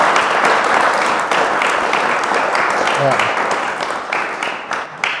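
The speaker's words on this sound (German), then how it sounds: "Das hat mal einen Applaus verdient." Audience applause for a panel discussion on an economic crisis, a full round of many hands clapping that tapers toward the end, with a brief spoken word and voices mixed in.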